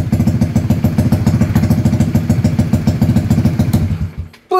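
A Honda CB150R Streetfire motorcycle engine idling loud and close with a fast, steady throbbing beat, then cutting out abruptly near the end as the engine kill switch is tested.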